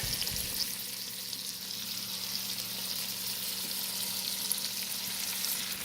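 Ackee cooking in a pot gives a steady, close sizzle of frying with stirring scrapes running throughout, with no voices over it.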